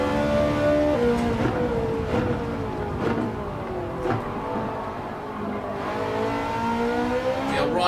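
A race car accelerating down the main straight in Gran Turismo 7, its engine note climbing and dropping through gear changes, loud and close, with other cars nearby.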